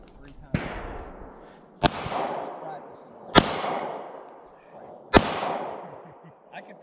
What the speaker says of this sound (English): The mag back in the gun and shooting the bullet before the mag hits the ground.